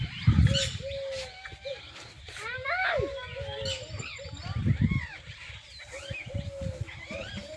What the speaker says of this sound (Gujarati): પક્ષીઓનો એટલો મીઠો અવાજ આવે છે